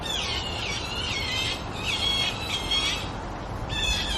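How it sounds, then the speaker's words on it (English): Birds chirp outdoors in repeated short bursts of high trills over a steady background hiss, moderately close and without voices. "these stupid birds."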